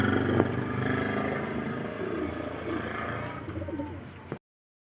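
Racing pigeons arriving from a race coo close by over a steady rushing, rustling noise that cuts off abruptly at the end.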